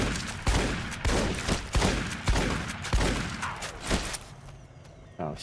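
Steady, loud gunfire in Fallout: New Vegas, with about nine sharp shots in an even rhythm, then a tail of echoing decay and a final click.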